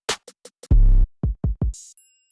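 Hoodtrap drum pattern programmed in FL Studio: sharp hits, a booming long 808 bass, a few clipped punchy kicks and a closing hi-hat or cymbal flourish, loud and dry with brief gaps between the hits.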